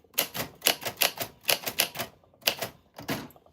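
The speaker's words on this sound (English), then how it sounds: "This is Typewriter ASMR" Vintage typewriter being typed on, a close, loud run of crisp key strikes in quick irregular bursts with brief pauses, no voices.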